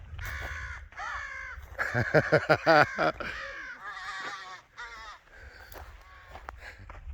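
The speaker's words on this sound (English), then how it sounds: "Crows are super smart animals." Several crows caw repeatedly and loudly nearby at a camp in the South Dakota Badlands, harsh calls coming in quick overlapping bursts, mixed with bits of talk.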